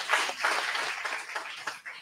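An audience at a village board meeting claps for a public servant, a modest burst of hands clapping in a room that thins and fades out over a couple of seconds.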